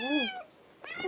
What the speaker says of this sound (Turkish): Arkadaşlar kedi delirdi.